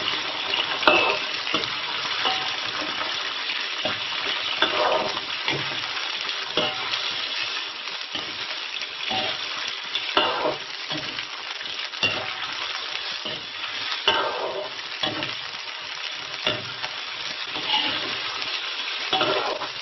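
Chicken stir-fried with sliced ginger and garlic in a wok over a wood-fired farmhouse stove, a steady loud sizzle running throughout with repeated scraping stir strokes, close up and with no voices.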